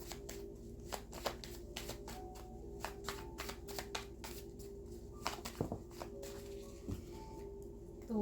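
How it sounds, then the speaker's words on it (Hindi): Tarot cards being shuffled and drawn, a quick run of crisp riffling and flicking card sounds, close and fairly quiet, with small taps and slides as cards are pulled out. "तो कुछ कार्ड्स निकाल लेंगे यहाँ पर"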